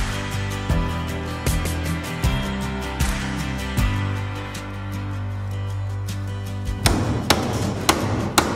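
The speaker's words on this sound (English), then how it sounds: "get to nailing some nail plates in" Nails hammered into metal nail plates on house framing, sharp close hammer strikes in irregular bursts, then a quicker run of blows toward the end, with no talk.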